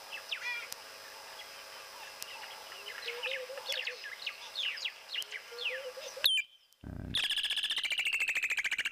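Many birds chirp and trill outdoors in quick overlapping calls, followed by a brief loud burst and then a steady, high, rhythmic buzzing call.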